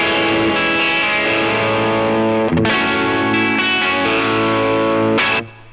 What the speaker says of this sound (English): So it's a pretty light overdrive sound